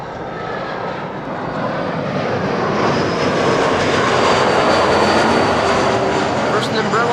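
A Chinese airline's Boeing 777 arriving at Amsterdam Schiphol, a steady wash of jet engine roar that builds gradually and holds loud through the end, with a faint whine on top.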